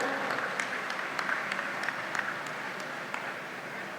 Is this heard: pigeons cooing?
no